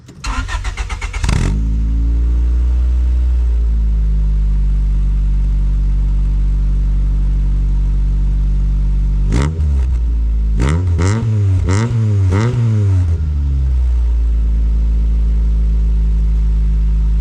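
A Honda CRX with a newly finished exhaust idles loud and close with a deep steady drone, broken by a quick blip early on and then a burst of several sharp revs that rise and fall back to idle.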